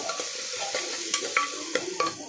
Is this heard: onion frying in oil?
yes